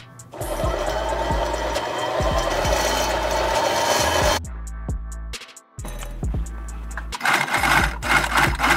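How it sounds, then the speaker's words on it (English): A sewing machine stitching fabric for a cheetah print fanny pack whirs steadily for several seconds, stops briefly, then runs again in short bursts, close and fairly loud. "So I'm gonna get onto the sewing machine, sew it up"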